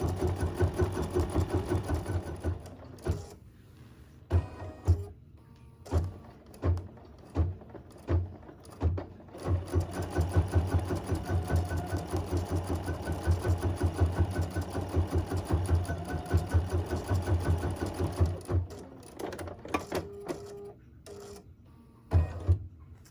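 A computerized embroidery sewing machine stitches background quilting in the hoop, a steady rapid mechanical chatter with rhythmic pulsing bursts and brief pauses, close and alone.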